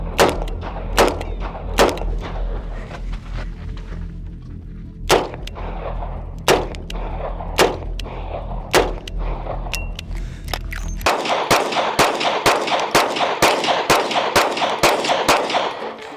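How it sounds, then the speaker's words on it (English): Repeated gunshots ring out from a distance in sharp, irregularly spaced cracks, followed near the end by a denser run of rapid shots, with no talk. "There's like no reason to keep shooting like that from that far away"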